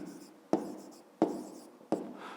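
A pen writes a fifth-grade maths exercise by hand on paper, a soft steady scratching broken by three sharp taps as the pen comes down on the page, close and quiet with no voices.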